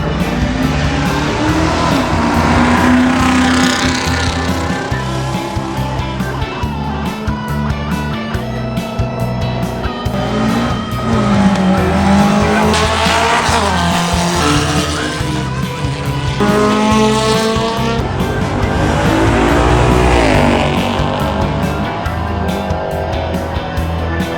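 Race cars roaring past at the Geelong Revival motoring event. Loud engines rev and shift gears close by, with tires squealing across a continuous stretch of high-revving noise.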